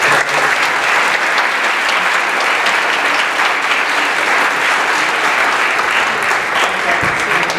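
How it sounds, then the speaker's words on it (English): Loud, sustained applause from a large debate audience, steady clapping filling the whole stretch without letup. "can we get another round of applause, please, for Mr. Baxter?"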